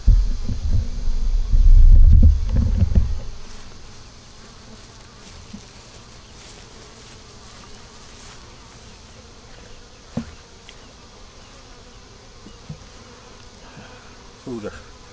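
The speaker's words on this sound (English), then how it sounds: "Oh yeah, I see movement now. We have bees in there." Honeybees buzz around a hive where new queens are being raised, a loud close droning hum at first that fades to a faint steady background buzz with occasional nearby passes.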